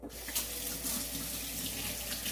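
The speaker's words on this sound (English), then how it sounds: "Let me wash my hands just for a second." A kitchen tap runs in a steady hiss and splash into a sink as hands are washed beneath it, close and continuous, with no talk.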